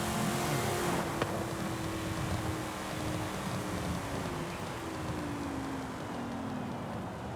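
A restored Ford Mustang Boss 302 in Forza Horizon 5 cruises along the road, its engine droning steadily with a gradually falling pitch. The car stays near and moderately loud, alone without voices.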